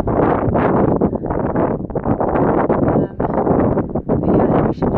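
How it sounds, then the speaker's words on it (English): Strong gusting wind on a Pacific Crest Trail mountain section, roaring and buffeting the microphone in a loud, continuous rush with brief dips, and no other clear sounds. "It's super windy up here."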